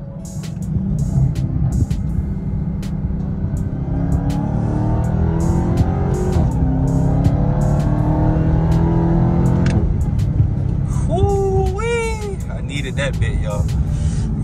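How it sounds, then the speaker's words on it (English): A 2021 Dodge Charger Hellcat Redeye drives with a steady, deep engine drone from inside the cabin, rising in pitch as it accelerates, with clicks and a brief whistling tone near the end. "It's my last drive in the car."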